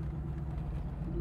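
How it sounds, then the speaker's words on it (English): A 1998 Ford Mustang engine hums with a low, steady rumble, idling or cruising nearby without speech. "Listen to this beautiful car. Man, does this thing sound great."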